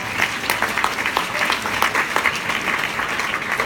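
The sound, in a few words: audience round of applause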